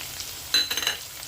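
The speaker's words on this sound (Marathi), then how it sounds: "कांदा चांगला परतून घेणार आहोत आपण" Sliced onion drops into hot oil over browned garlic and chilli tempering, a sudden sizzle followed by a few stirring scrapes, close and fairly loud with no talking.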